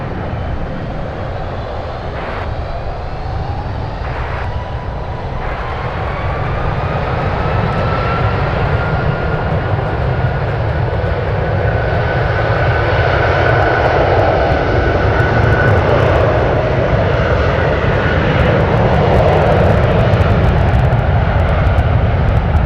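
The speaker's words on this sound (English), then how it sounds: "the 757 heading off to Newark" A Boeing 757 bound for Newark takes off at San Francisco airport, its engine roar building from a steady rumble into a louder, sustained thunder with a rising whine, continuous and unaccompanied by talk.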